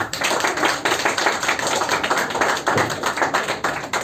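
A crowd claps loudly and continuously at an Achiever Academy award ceremony, dense rapid hand claps filling the hall without speech.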